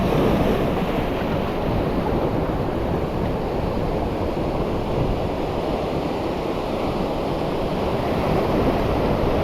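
Ocean waves surge onto a beach at low tide, a continuous broad roar of surf mixed with wind buffeting the microphone, loud and unbroken.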